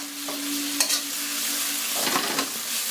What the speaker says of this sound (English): Make sure all the onion is mixed in, otherwise you end up burning. I'm using a wok.